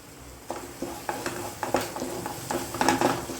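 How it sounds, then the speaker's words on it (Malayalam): Onion and tomato sauté in a pan under a constant soft sizzle, with a spoon stirring in repeated scraping strokes that grow busier toward the end; no talking. "നമ്മൾ ഉള്ളിയും തക്കാളി നല്ലതുപോലെ വഴണ്ട് വന്നിട്ടുണ്ട്"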